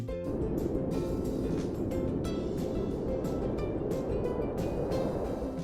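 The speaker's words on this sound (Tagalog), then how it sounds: "Ihip ng hangin" Wind blows as a continuous broad rushing noise, steady in loudness from start to finish, with no voices.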